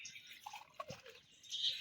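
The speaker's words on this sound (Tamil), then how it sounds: "ஒரு டம்ளர் தேங்காய் பால் சேர்த்துக்குவோம்" Coconut milk is poured into a pot of rice and water for a cowpea pulao, heard as a faint trickle with a few soft drips and splashes.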